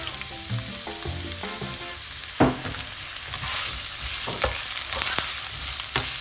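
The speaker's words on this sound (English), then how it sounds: "we're gonna stir fry them for 1 to 2 minutes until the onions become translucent" Onions and pepper stir-fried on high heat for vegan Spanish rice, a steady loud sizzle with scraping stirs and a few sharp utensil knocks against the pan, no talking.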